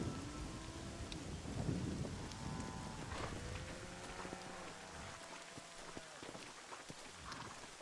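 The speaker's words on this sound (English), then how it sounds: "The storm's getting worse." Thunderstorm in the video game Red Dead Redemption: steady rain hissing over a wide band with low rolling thunder swelling early, plus faint clopping, no voices.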